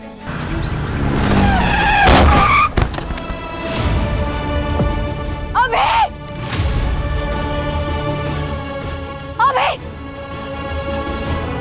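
A bike skids and slips on the road with tire squeals and a scrape, over busy traffic rumble and voices speaking nearby.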